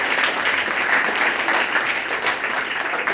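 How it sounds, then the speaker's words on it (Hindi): Enthusiastic applause from an audience at a school competition, a dense burst of clapping that carries on steadily throughout at close range, with no talk over it. "जोरदार ताली होनी चाहिए।"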